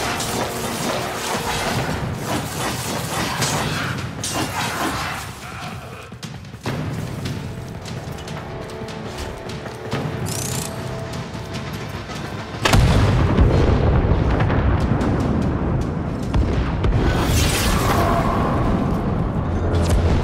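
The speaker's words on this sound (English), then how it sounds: "Turn to the cannon and pull the trigger." In Warframe, a cannon fires on a galleon: heavy booming blasts and crashing impacts over a dense game soundscape, with a sudden louder burst about midway that stays intense to the end.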